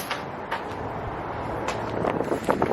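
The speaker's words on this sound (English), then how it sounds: "I pray to God that this wind do not blow this camera over" Wind blowing outdoors during car detailing rumbles steadily against the microphone, with soft gusty swells and a few faint knocks, building slightly near the end.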